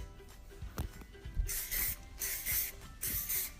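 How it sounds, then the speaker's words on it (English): Hairspray aerosol sprayed onto big, volumized hair in several short bursts, each a close, bright hiss lasting about half a second with small gaps between, following some quiet handling noise. "A little bit of hairspray."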